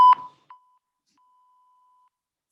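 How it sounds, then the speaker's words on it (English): A workout interval timer gives one sharp, loud electronic beep at the start, then a much fainter short blip and a thin lingering tone, with no talking. "You'll hear the beep."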